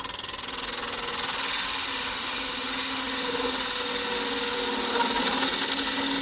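A wood lathe spins steadily while a bowl gouge cuts a rustic Christmas ornament, producing a constant loud whirring drone with a faint tool hiss that builds slightly over time.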